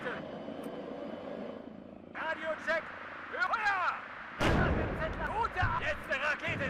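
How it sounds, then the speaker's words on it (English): Rocket artillery firing in the WARNO war game, a sudden loud blast and roaring burst near the middle over a low battlefield rumble, with voiced radio chatter before and after it. "Letzte Rakete ist raus!"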